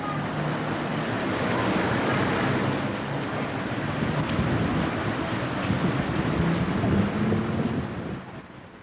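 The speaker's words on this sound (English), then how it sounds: "the sunny day has drawn many around the soothing sounds of the reflecting pool" Water ripples and splashes in the reflecting pool on Worcester Common, heard as a continuous wash that wind buffets heavily with rumbling gusts on the microphone, fading out at the end.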